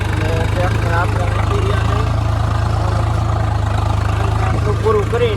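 A tractor engine runs steadily at idle, a continuous low mechanical drone that fills the whole stretch, with a person talking over it.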